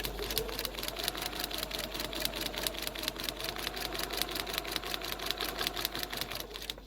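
A sewing machine stitches a foundation paper pieced quilt block along a marked line, a fast, even run of close mechanical ticks over a steady motor hum, near and uninterrupted.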